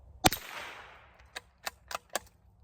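A CZ 452 American .22 LR bolt-action rifle fires at small steel plates outdoors. One sharp, loud crack rings out with a short ringing tail, followed by four fainter, evenly spaced sharp taps.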